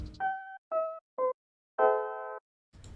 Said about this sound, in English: I first started off with this one-shot pluck from prodTYmgmt.